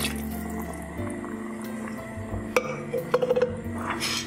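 Water is poured into a simmering pot of rabbit and white bean stew, a steady liquid fill with bubbling, then a few quick clinks and drips near the end, close up with no talking.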